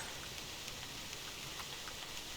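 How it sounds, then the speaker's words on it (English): Steady rain in the hunting video game theHunter Classic, a dense even patter of drops that fills the whole stretch with no voices. "It would have been nice, Moan, if it wasn't raining again"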